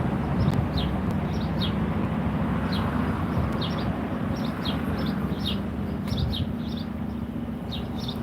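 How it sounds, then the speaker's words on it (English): Birds chirping outdoors in front of a main street art center in Lake Zurich, with repeated short high tweets scattered across the whole stretch over a steady low background rumble of the street, with no talk. "The birds are back."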